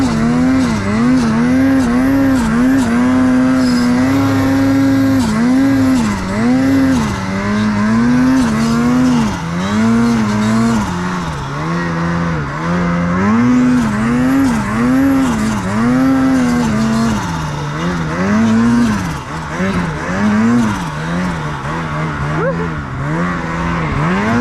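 A modified Ski-Doo snowmobile engine revs up and down hard while climbing a hill, its pitch swinging repeatedly as the throttle works, loud and close throughout with a faint voice underneath.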